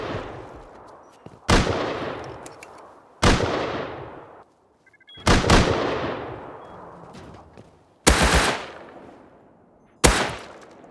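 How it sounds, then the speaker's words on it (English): Automated turrets in the Rust video game fire off six sharp bursts, each a loud crack that decays into a rattling echo, spaced roughly every two seconds. "Who the hell is setting off my turrets?"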